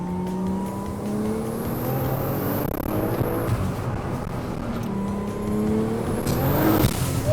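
A BMW M4 on narrow country roads revs hard with its wheels spinning, engine pitch climbing in two rising surges with a brief gear-change dip between, fairly close and alone.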